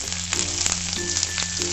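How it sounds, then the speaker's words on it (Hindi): Ginger, curry leaves, green chili and cumin fry in hot oil in a pan, giving a steady close sizzle with faint crackles and light stirring clicks throughout, no voices. "सारी चीजों को हमें कुछ देर के लिए अच्छी तरह से भून लेना है।"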